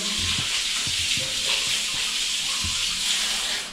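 Water runs steadily from a tap, a bright continuous splashing with a few low thumps underneath.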